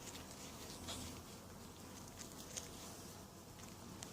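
Bees swarm and buzz around a honeycomb frame during a honey harvest, a steady low insect drone close by with soft patter and handling sounds, no talk.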